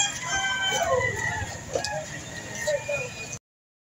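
Roosters and hens at a Lipa City, Batangas chicken market crowing and clucking over a busy background murmur, moderately loud and nearby, cutting off abruptly after a few seconds.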